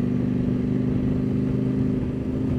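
A CF Moto 800 MT Explore fitted with a link pipe exhaust idles close by, giving a steady, deep, burbling drone with a faint uneven lope throughout.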